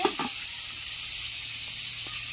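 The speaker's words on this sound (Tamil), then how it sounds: "இப்போ வந்து வெங்காயம் வந்து வதங்கிடுச்சு நம்ம வந்து தக்காளி சேர்த்தோம்னா" Onions and tomatoes sauté in hot oil for a large-batch mixed vegetable kootu, giving a steady, moderately close broadband sizzle with a brief stirring scrape at the start and no talking.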